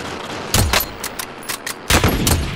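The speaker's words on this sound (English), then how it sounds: "Receiving hostile fire." Gunfire in the video game Call of Duty: Modern Warfare, several sharp shots in two clusters, one around the half-second mark and another near the end, loud and close with no talking.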